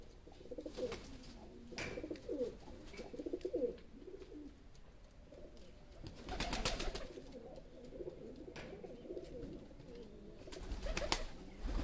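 Ferozpuri pigeons coo softly and repeatedly in a quiet loft setting in Rawalpindi. The low burbling calls overlap in loose bursts, with occasional brief wing flutters or knocks, and no one speaks.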